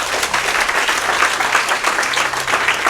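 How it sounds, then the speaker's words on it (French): A church congregation applauds steadily, a dense, even wash of many hands clapping close by, with light cheering mixed in and no break across the whole stretch. "acclamez pour elle"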